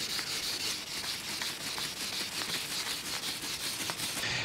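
Steady wet sanding of a car's clear coat with 1500-grit sandpaper, a continuous close, even rubbing hiss with faint rhythmic strokes and no talking.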